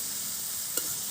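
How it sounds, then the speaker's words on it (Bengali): Lote shaak greens cook in a kadai with an even hiss of frying and a single small knock partway through. "এবারে এগুলো শাক দিলাম। কড়াই ভর্তি শাক।"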